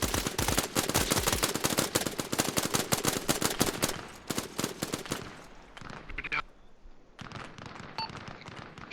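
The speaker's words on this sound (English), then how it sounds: "Shoot him, shoot him, shoot him, shoot him." Rapid automatic gunfire from a military firefight in the Arma Reforger war game, loud sustained bursts for several seconds, then sparser shots with gaps while voices call out over the fighting.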